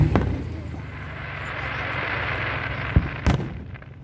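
Independence Day fireworks seen from a hilltop where cars park, heard as a continuous dense roar of distant crackle with a couple of sharper bangs near the end.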